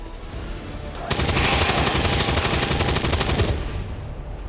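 Sustained automatic gunfire from XCOM 2, a dense, loud rattling burst of about two and a half seconds that rises sharply and cuts off, set over game background noise.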